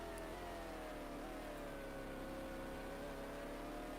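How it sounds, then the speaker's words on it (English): An old Porsche race car engine in the GTR2 racing game at the 2000 Le Mans 24 Hours, a steady distant drone holding one pitch throughout. "those old Porsches sound dumb"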